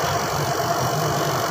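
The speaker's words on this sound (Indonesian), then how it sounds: "banyak sekali suara mesin karena lagi di atas pabrik" Factory machinery running on a rooftop, with a continuous loud mechanical drone and low throbbing hum nearby, steady throughout.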